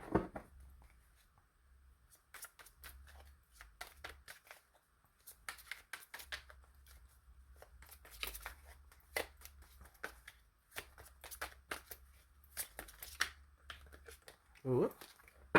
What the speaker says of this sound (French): Je vais recommencer à brasser parce que ces cartes-là sont sorties dans le dernier tirage